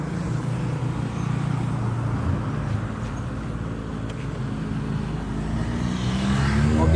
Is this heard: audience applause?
no